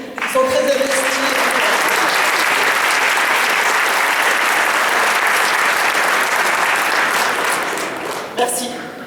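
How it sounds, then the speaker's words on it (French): Loud, dense applause from an audience at a town's New Year greetings ceremony in Grabels, sustained for most of the stretch before tapering off near the end, with a few voices audible at the start and close. "donc pour ça on les applaudit"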